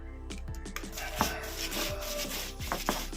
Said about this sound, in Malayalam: ഇനി ഒന്ന് നന്നായിട്ടൊന്ന് അരച്ചെടുക്കണം